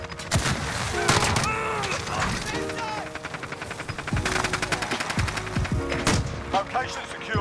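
Rapid gunfire from an FAL rifle in Modern Warfare, loud repeated shots in clustered bursts with sharp cracks and booming tails, mixed with other game effects and a voice occasionally over the action.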